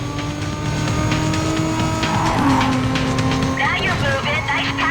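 A Toyota Supra races in Need for Speed: Carbon, its engine droning loudly and continuously, with brief tire squeals near the end.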